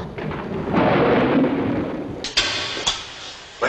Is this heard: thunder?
yes